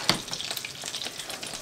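Butter and olive oil sizzle in a frying pan, a steady close crackle with a sharp pop near the start and light spattering throughout, no voices.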